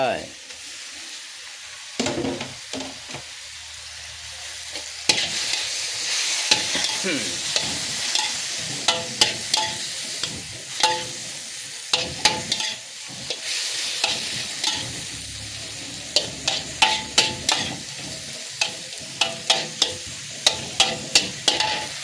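Crispy pork stir-fried with holy basil in a hot pan: a loud steady sizzle with a rapid run of rhythmic spatula scrapes and clanks building toward the end.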